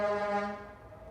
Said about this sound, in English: all of the old cars are going down the street and they're all like honking